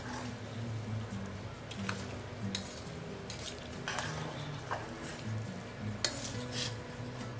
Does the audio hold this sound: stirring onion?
yes